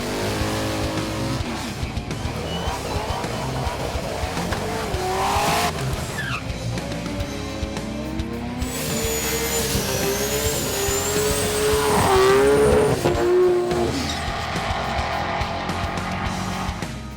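Street outlaw race cars at Grudge Kings Sydney, engines roaring and revving hard with tyres squealing and skidding, a loud continuous wall of motor noise with rising and falling engine pitch throughout.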